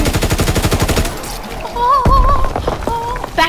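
Gunfire in a World War II video game: a fast burst of rapid machine-gun shots, then a heavy blast followed by mixed game effects, loud and close with no talking.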